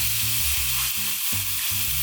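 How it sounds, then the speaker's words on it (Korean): Pork sizzles steadily in a hot pan as a continuous bright hiss, with music playing underneath throughout. "이제 팬을 달궈주시고 그 위에 고기를"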